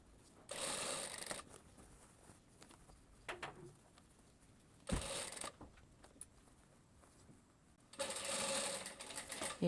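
A home sewing machine stitches a blouse lining to the sleeve, starting at the shoulder seam, in quiet short bursts of whirring separated by pauses, with faint handling and rustling of fabric between runs.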